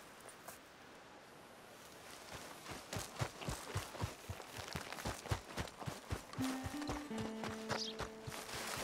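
Hooves clip-clop steadily on the ground as a horse walks and then trots, growing closer and louder, with a brief tonal game sound near the end, in Red Dead Redemption 2.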